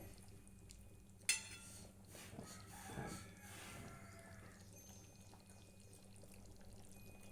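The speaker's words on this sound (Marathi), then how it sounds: "गरम पाणी थोडंच टाकूया" Hot water poured into a country-style mutton curry in a pot, starting with a sharp metallic clink, then a soft pouring splash and gentle stirring. The whole thing is faint and quiet, with no talk.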